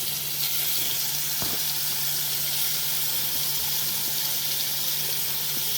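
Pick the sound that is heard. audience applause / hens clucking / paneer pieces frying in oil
paneer pieces frying in oil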